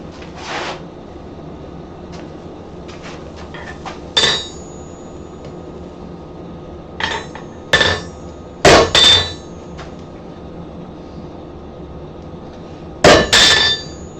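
A blacksmith's hammer strikes hot metal on an anvil in a forge shop. About eight ringing blows come singly and in short pairs, spaced by pauses, over a low steady background hum.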